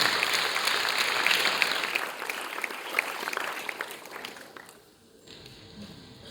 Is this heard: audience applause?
yes